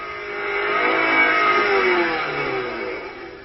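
A Toyota car engine revs with its gas pedal held down by a wrong-sized all-weather rubber floor mat, a loud rising then slowly falling engine roar with no voices.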